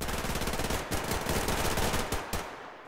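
Rifle fire in the post-nuclear shooter Survarium, a rapid run of loud close shots in quick succession for most of the moment, stopping briefly and ending with a last few bursts.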